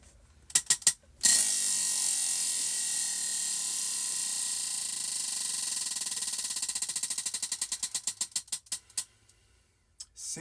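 A clicking prize wheel spins to pick a crochet stitch: a few clicks, then a fast whirring rattle that slows into distinct ticks spacing further apart until it stops.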